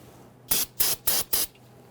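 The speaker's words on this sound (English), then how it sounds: "We're going to give that a quick spray with some solvent." Four short, evenly spaced hissing bursts from an aerosol solvent spray can cleaning a Dodge Charger front brake caliper, close and crisp, with quiet pauses between them.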